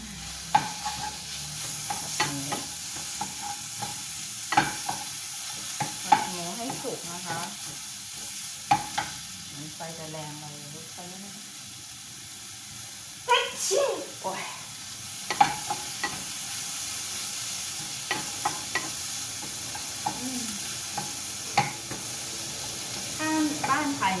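Meat sizzles steadily in a hot pan for fried rice while a utensil stirs and scrapes, with sharp metallic clanks scattered throughout.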